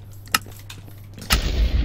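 Cannon shots in a Minecraft party game on Hypixel, a sharp single blast early on followed by a second louder boom that rumbles on with low, noisy debris to the end.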